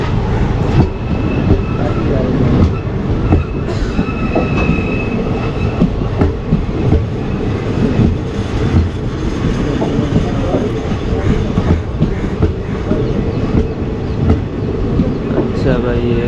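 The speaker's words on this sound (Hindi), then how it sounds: "ये अंबिकापुर जबलपुर रीवा एक्सप्रेस है।" An Indian express train, the Ambikapur–Jabalpur–Rewa Express, runs at speed, heard close and loud as a continuous heavy rumble and wheel clatter, with indistinct voices underneath.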